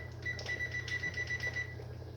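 A kitchen timer beeps as it is set, a run of short, evenly spaced high electronic beeps close by over a steady low hum, in a home kitchen during early-morning supper preparation.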